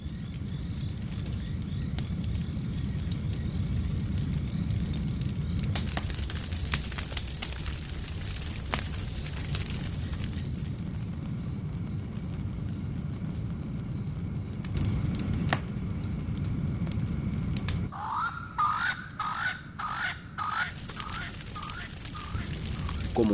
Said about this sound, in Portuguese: Uma faísca mínima incendeia um arbusto.